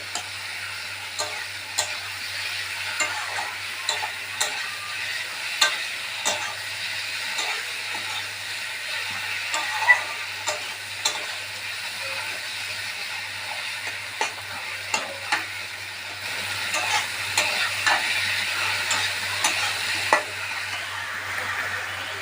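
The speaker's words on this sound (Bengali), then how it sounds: "মশলাটা একটু ভাজা ভাজা হয়ে গেলে এবার আমি মোচাটা দিয়ে দেব।" Banana flower is stir-fried with spices for mochar ghonto, a steady close sizzle punctuated by repeated clicks and scrapes of the spatula against the pan, with no voices.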